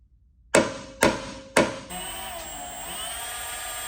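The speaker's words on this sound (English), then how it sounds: "I'm gonna do a little punch, center the punch, so I make sure I get the center of those holes" Three sharp metallic hammer strikes on a center punch against metal, evenly spaced about half a second apart, followed by a lingering ringing hum.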